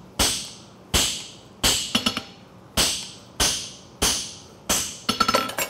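Hammer blows on a concave egg bar horseshoe as a farrier runs a fuller through it at a forging competition, seven sharp ringing strikes in a steady rhythm, the later ones followed by quick bouncing taps, close and loud.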